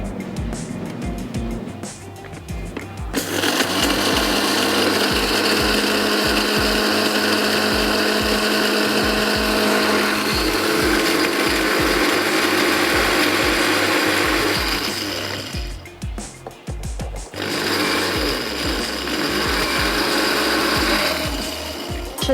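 An electric grinder grinds whole spices, including cumin, for a paneer yakhni pulao. The whirring is loud and rattling and runs for about twelve seconds, then stops briefly before starting again.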